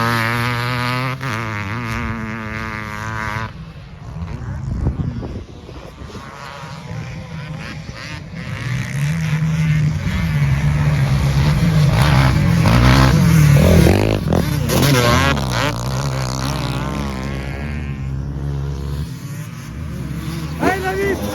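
A 500 CR motorcycle engine revs close by in uneven bursts, its throaty buzz rising and falling, with people talking and calling out over it.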